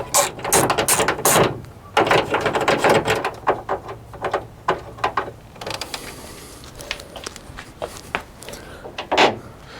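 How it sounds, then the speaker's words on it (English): A 9mm socket ratchet loosening the bolts of a footman loop on a Jeep JKU hood, with close repeated ratcheting clicks and metallic handling noises in uneven bursts. "For the footman loop in the middle, you're going to want to get a 9mm socket and just simply unloosen these bolts."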